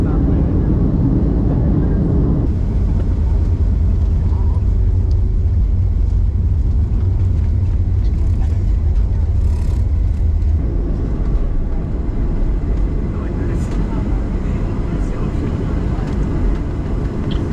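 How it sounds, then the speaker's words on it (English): Steady loud rumble of a passenger airplane cabin during descent into Belize City airport, the low drone shifting partway through as the approach continues, with faint voices underneath. "We're about to land in Belize City."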